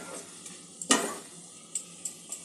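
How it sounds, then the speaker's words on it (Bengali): Cauliflower kabab mixture with spices and chopped coriander stirred in a pan, a brief loud scrape of the spatula followed by a few lighter utensil taps against quiet background. "ভালো করে মশলার সঙ্গে কাবাবের উপকরণগুলো ভালো করে কষে নিতে হবে।"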